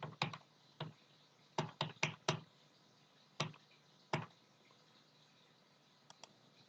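Keys on a computer keyboard are tapped in short bursts while entering values in an Excel spreadsheet, crisp close clicks in small clusters separated by quiet pauses, with two faint final taps.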